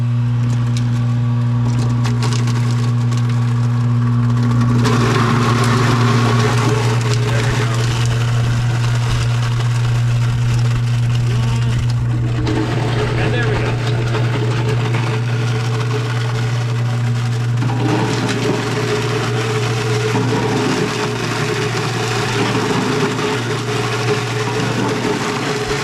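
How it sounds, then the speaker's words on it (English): Clogged electric apple grinder with its motor still spinning, a loud steady mechanical hum with strong tonal drone, shifting and rattling as the machine is shaken to break the jam loose. "if the grinder gets clogged with the motor still spinning, we can give it a little shake to see if we can break it loose"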